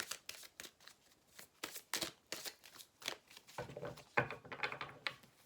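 Tarot cards are shuffled and dealt out in a rapid run of soft riffling flicks and slaps, close and quiet, followed by a denser rustle as cards are laid down.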